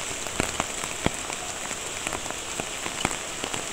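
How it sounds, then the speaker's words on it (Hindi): Steady rain falls outside in a village, a dense hiss of drops with sharper individual splats landing on a surface close by, with no voices. "क्योंकि बाहर बारिश हो रही है"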